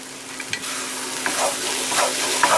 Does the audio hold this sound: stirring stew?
yes